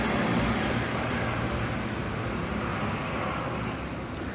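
A vehicle heading home from the gym, heard from inside as a steady, fairly loud road and engine rumble with broadband traffic hiss that holds unbroken throughout, with no voices.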